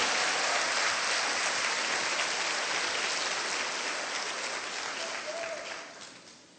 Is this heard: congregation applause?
yes